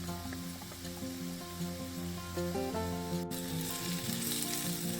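Chopped onions and green chilies sizzle and fry steadily in a pan for a guar phali sabzi, a continuous close hiss with light stirring, under a soft musical bed and no talk.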